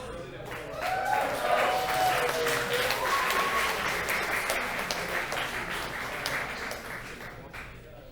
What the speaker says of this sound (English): So give another round of applause to all of the team Detroit.